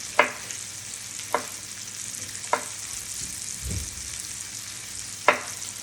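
A knife chops zucchini slices into julienne strips on a board. Four or five sharp, close cuts land at uneven intervals over a steady background hiss.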